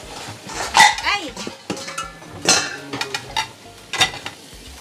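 Plates and utensils clatter and scrape as dishes are cleared and washed in a home kitchen, in several loud, close bursts under conversation, with a dog barking.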